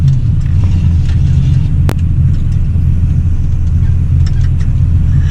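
Ford Falcon engine running with a steady, deep rumble on a rural road, loud and constant, with a brief click partway through and no speech.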